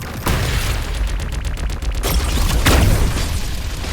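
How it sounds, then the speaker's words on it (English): Deep, muffled booms thud in quick succession beneath a dense rumbling roar, with a burst of rapid crackling pops in between. "I can hear the muffled explosions."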